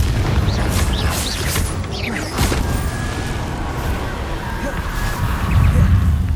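Confringo blast spells going off in Hogwarts Legacy, a run of booming magical explosions and crackling impacts with whooshes, a loud busy game-combat mix.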